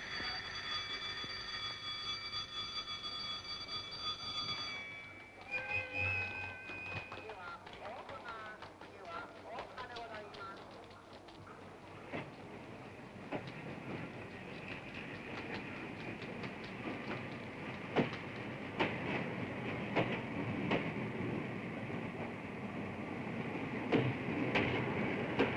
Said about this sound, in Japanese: 急行列車鹿児島行き発車いたします。